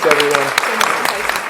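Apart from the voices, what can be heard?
audience applause for panel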